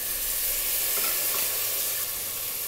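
Carrots, beans and peas hit a hot pan with tomatoes and sizzle in a dense, steady hiss, loud and close, with no speech over it.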